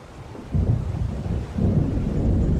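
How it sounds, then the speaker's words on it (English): Thunder rumbles deep and heavy during a thunderstorm in the Alan Wake video game, rolling in two swells over a bed of steady rain. "It seems there's a storm coming"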